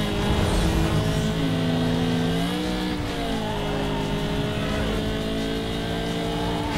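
A VW Golf engine in Need for Speed Most Wanted revs hard and steadily through a race lap, its pitch rising and dipping with gear changes, with brief tire noise layered in and no talk.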